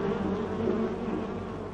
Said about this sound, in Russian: половина населения улья, окружив матку, покидает его.